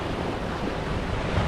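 Sea waves rolling at Fortune Island, a steady broadband wash of surf with wind rumble, continuous and fairly loud with no voices.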